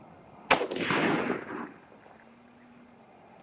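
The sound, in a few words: 308 Winchester rifle shots being fired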